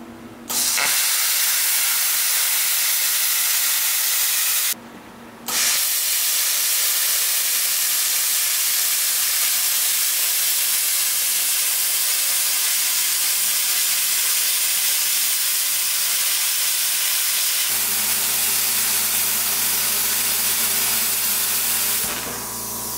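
Metal being cut for a homemade rocket stove build, a loud, steady hissing, rushing grind that runs almost without break, with one short pause and a duller tone near the end.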